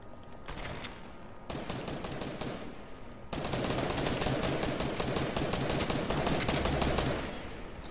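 Fortnite gunfire: fast bursts of automatic shots, first in short clusters and then a sustained, louder rattle that runs for several seconds before easing off.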